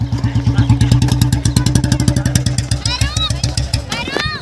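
A Royal Enfield Bullet motorcycle engine, old Electra versus standard model, thumps close and loud in a rapid even single-cylinder beat, with a voice briefly heard near the end.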